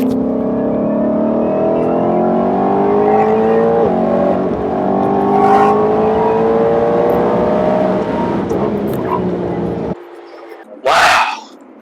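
A Ford GT500 fitted with a JLT intake accelerates hard along a road, its engine note climbing steadily for about ten seconds before cutting off abruptly, followed by a brief burst of noise near the end.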